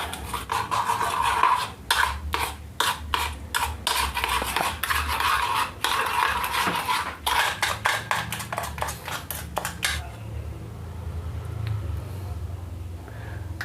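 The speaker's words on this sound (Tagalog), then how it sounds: "Haluin na natin ngayon to." A utensil repeatedly scrapes and clinks against a pot while Korean ramen with chili sauce is stirred, in rapid rhythmic strokes that stop near the end, leaving a low background hum.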